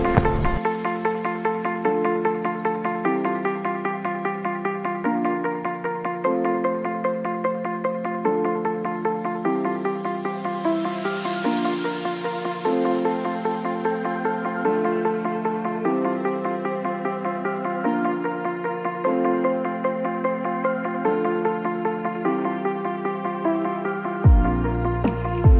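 The bell of the Birch Memorial clock tower in Ipoh, Perak, Malaysia rings out in a sustained, ringing sequence of tones that repeats steadily for about 25 seconds, with no talking.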